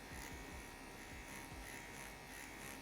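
A tattoo machine needle buzzes continuously during stipple shading, giving a steady, even electric hum at low level throughout with no pauses.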